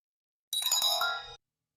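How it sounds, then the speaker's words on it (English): A single sharp, bright chime rings from a habitat control dashboard, clear and close, in otherwise total silence, lasting under a second. "A sharp chime broke the silence."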